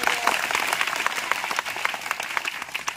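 Schoolchildren in a classroom clap together in a sustained, dense burst of applause during a spoken English lesson at a village school, steady and fairly close throughout.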